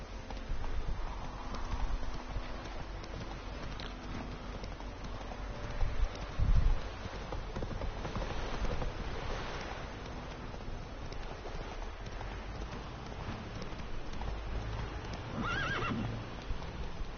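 The horse Roach in the video game The Witcher 3, hooves clip-clopping steadily at a gallop, with whinnies and neighs breaking through, close and clear over a constant ambient background.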